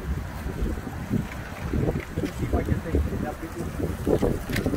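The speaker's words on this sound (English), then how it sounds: "It's a serious wind, right?" Strong wind gusting across a park dock by the water, a loud broadband rush with microphone buffeting that rises and falls continuously throughout, with people talking in the background.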